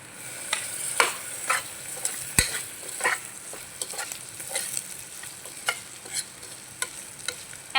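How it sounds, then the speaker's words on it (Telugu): Browned onions frying in a pan are stirred, a steady sizzle broken by sharp scraping and tapping of the spoon against the pan at irregular intervals, close up and without talk. "ఆనియన్స్ బ్రౌన్ కలర్ వచ్చాయి కదా, ఒకసారి తిప్పుకుంటున్నాను."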